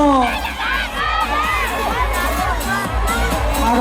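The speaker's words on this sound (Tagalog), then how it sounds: "Isigaw nyo!" Crowd shouting and cheering at the Metro Manila Film Fest parade in Manila, a loud, dense roar of excited voices with high-pitched screams rising and falling throughout.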